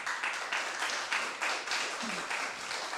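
An audience at a town council meeting claps, a modest scattered round of applause steady across the few seconds, fairly faint in the room, with a brief voice sound underneath.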